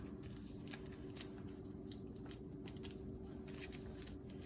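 Paper being folded for an origami crane, close and quiet, with a run of soft crisp creases and rustles over a low steady background hum.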